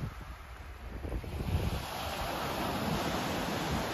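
Surf washes onto an empty beach in Normandy on a bright day, a continuous broad roar of waves mixed with gusting wind buffeting the microphone, with no voices.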